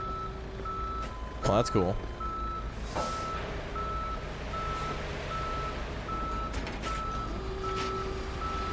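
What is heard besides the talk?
tow truck reversing beeps in a police simulator video game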